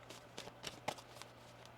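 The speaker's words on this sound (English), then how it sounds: "One more shuffle here." A deck of tarot cards is shuffled, giving a handful of quick, soft riffling flicks and taps in an irregular rhythm, close but faint.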